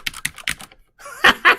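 Rapid keystrokes on a computer keyboard, a quick run of separate clicks followed after a short pause by two louder, heavier key bursts, close up and with no talking.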